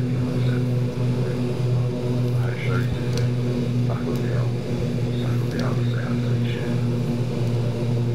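A Super King Air B200 in a flight simulator drones with its turboprop propellers at full RPM, a steady loud engine hum with strong tonal bands and no pauses throughout.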